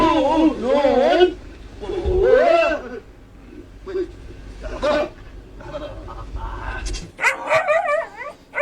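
A dog barks and yips in several loud bursts, with whimpering pitch sweeps between, while people talk over parts of the sound.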